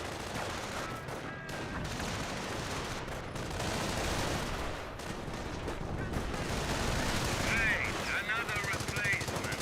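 Machine gun emplacement firing in the Company of Heroes game: dense, continuous bursts of automatic gunfire with scattered shots and battle din, a voice speaking beneath the fire.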